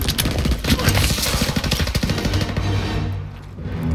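Sustained automatic weapon fire in the WWII shooter Call of Duty WW2, in a factory battle, a fast rattling stream of shots that thins out and fades near the end.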